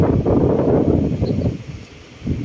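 Steady wind gusts buffet the microphone with low rumbling noise, easing slightly toward the end before picking up again.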